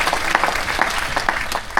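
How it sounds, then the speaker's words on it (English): Steady clapping from a crowd at a military appreciation gathering fills the whole moment, mixing many overlapping hand claps with a few sharper individual claps standing out. "So we want to give a big round of applause to all the work that he did."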